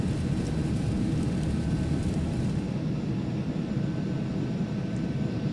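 A Carenado Citation business jet taking off in the FSX flight simulator, a steady loud roar of engine rumble with airy hiss that holds constant before easing slightly.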